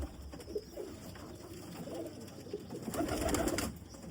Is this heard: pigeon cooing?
yes